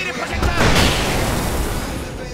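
A grenade goes off in the video game Alan Wake, a single broad burst swelling near the start and then rolling into a dense, noisy rumble that fades only slightly over two seconds.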